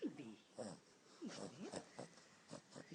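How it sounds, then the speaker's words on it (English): A pet snores loudly in close, rasping wheezy snorts that repeat in an uneven rhythm, faint overall against a quiet room. "He snores loud."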